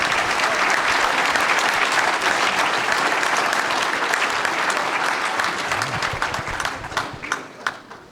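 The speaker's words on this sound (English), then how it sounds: "Let's hear it one more time for Governor Shapiro" Sustained audience applause fills a union hall at a steamfitters' industry day event after a governor's speech, dense and steady clapping that thins out toward the end with a few scattered final claps.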